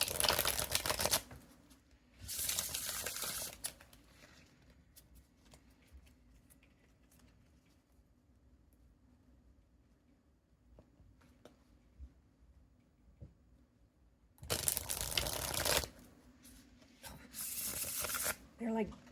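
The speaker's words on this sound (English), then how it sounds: "I need to shuffle them." A deck of tarot cards being shuffled in two bursts of riffling, one near the start and one near the end, with a long quiet stretch between them.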